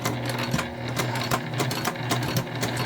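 A sewing machine stitches through a wristlet's satin interior with a fast, even rhythmic clatter of needle strokes, close and continuous, heard alone without talk.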